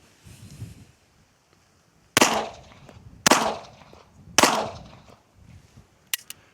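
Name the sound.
gunshots recorded by hat-mounted microphone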